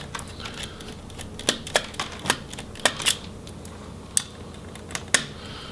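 Sharp plastic clicks and small metallic taps from a hard drive caddy holding a SATA drive being pulled out of a Lenovo Flex 4 laptop, scattered irregular knocks against a quiet background with no talk.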